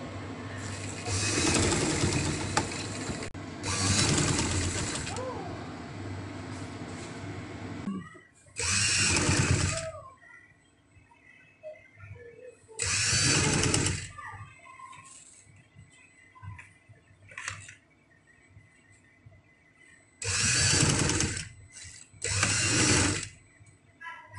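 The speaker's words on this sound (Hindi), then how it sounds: "इस सिलाई पे हम सिलाई लगाएंगे।" Sewing machine stitching a simple winter neck design on cloth, running in several loud bursts of rapid mechanical chatter separated by quieter pauses with small handling clicks.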